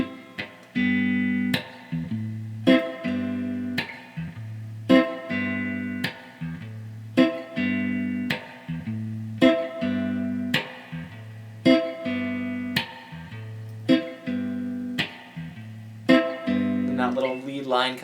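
Electric guitar strums chord voicings, a triad on top over a held bass note, in a steady repeating rhythm of ringing chords, close and clear with no talking.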